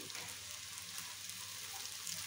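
Vegetable bhaji frying in a pan while it browns lightly, giving a steady, close sizzle and crackle throughout with no talking.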